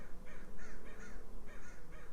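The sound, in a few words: crows cawing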